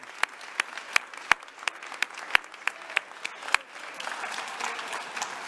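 A few distinct, sharp claps ring out in a sparse rhythm after a speech by bartender Salvatore Calabrese, then give way to a softer wash of scattered applause and murmuring crowd.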